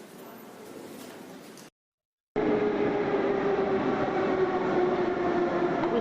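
A Moscow metro train, the underground built from the 1930s, rumbles along at a steady loud roar after a brief silent gap, with a sustained hum and clatter running from inside the carriage.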